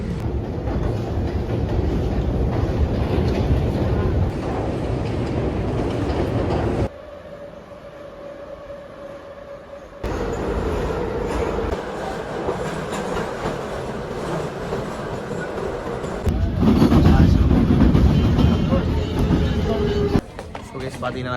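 A metro train rides through Tbilisi, Georgia, with a steady loud rumble of wheels and cabin noise, brief shifts as the ride changes, and passengers talking throughout.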